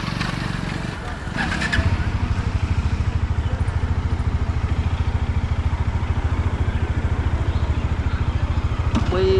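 A Bajaj Dominar 400 motorcycle engine runs with a loud, steady, rapid thrum from close by, its beat holding even after a brief dip at the start, with a voice talking over it.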